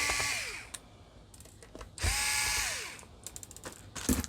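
A small electric screwdriver whirs in short bursts while removing the screws from an HP OMEN 15 laptop, close up, with brief gaps between each unscrewing run.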